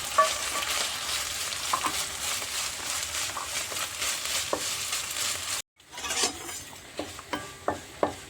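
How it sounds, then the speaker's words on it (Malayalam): Grated ginger fries in a pan with a constant crackling sizzle and occasional stirring scrapes. A brief silent cut follows, then the sizzle resumes with sharp utensil clinks against the pan. "ഇഞ്ചി നന്നായി ഗ്രേറ്റ് ചെയ്ത് എടുത്തതാണ് നമുക്കിത് ഇതിലിട്ടിട്ട് വറുത്തെടുക്കാം"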